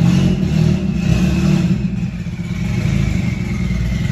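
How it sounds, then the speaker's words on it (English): Turbocharged Honda Civic with a D16 engine running and revving, a steady rough mid-pitched drone with slight rises and falls in engine speed, heard close and fairly loud throughout. "So there it is, running, driving on her own power."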